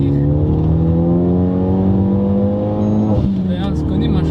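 A Renault Megane RS RB7 with a 300 hp front-wheel-drive engine pulls hard uphill, its exhaust droning with a steadily rising pitch before easing off briefly, heard from inside the car.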